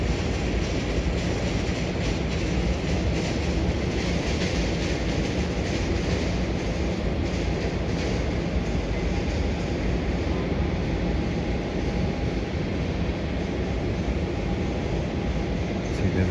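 A Jetstar Airbus A320 landing at Melbourne Airport: a loud, steady broadband roar of jet engines and rushing air that holds unbroken throughout, with no voices.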